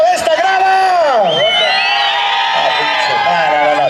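Packed stands at a jaripeo in Tamazulapam del Espíritu Santo erupt in loud sustained shouting and whooping, many voices overlapping close by in a dense, continuous roar.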